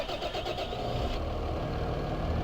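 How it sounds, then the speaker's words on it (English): A tractor engine in Farming Simulator 2015 cranks with a brief starter whir, then catches and settles into a steady, rumbling idle, heard alone. "I'll jump back into this tractor"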